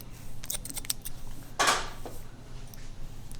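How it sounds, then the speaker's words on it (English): Scissors make several quick snips through a boy's thick, heavy hair during texturizing, a run of small metallic clicks with one louder cut near the middle, close and clear with no talking. "I'm just gonna go through this whole area and just do a few snips."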